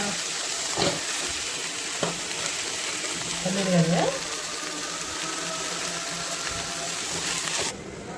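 Vegetables stir-fry with chillies in a pan for a fasting-day thali, a continuous close sizzle broken by a few utensil clacks and a brief voice-like sound midway.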